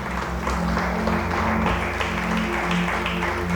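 Church congregation applauding together during a Spanish-language sermon, a dense steady wash of clapping lasting the whole stretch with a faint tonal hum beneath it.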